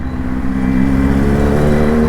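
A superbike engine revs hard at very close range, a loud, continuous throaty drone that holds steady throughout.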